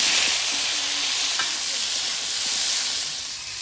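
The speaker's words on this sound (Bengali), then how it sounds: "আলুটা আগে ভেজে নেব" Potatoes frying in hot oil with nigella seeds and green chilies in a kadai, a loud continuous sizzle and hiss with faint stirring clinks, no voices.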